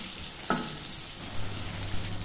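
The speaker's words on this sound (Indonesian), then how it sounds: "Di sini kita goreng-goreng, kita aduk-aduk sampai benar-benar mateng." Sambal ingredients frying and being stirred in a pan, a steady close sizzle with a sharp scrape of the utensil near the start and soft stirring noises after.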